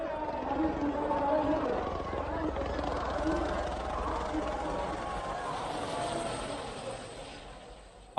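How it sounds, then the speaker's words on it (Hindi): A helicopter flies over the huge Maha Kumbh crowd at Prayagraj showering flowers, its steady rotor drone filling the scene at moderate loudness under a narrator's voice and crowd hubbub, fading slightly toward the end. "ये तस्वीरें आप देखिए, हेलीकॉप्टर से पुष्प वर्षा की जा रही है।"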